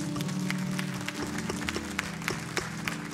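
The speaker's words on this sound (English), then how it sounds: "Can we give the Lord a hand clap this morning?" A church congregation claps during a morning service, giving a steady crackle of many hands under a sustained low musical drone, with a few sharper claps standing out near the end.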